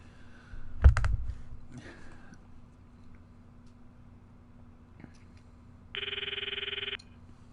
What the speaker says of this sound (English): I immediately take out my phone and call Daru.